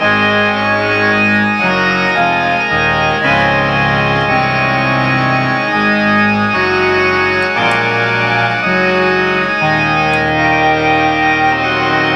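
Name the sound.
synthesizer pop organ patch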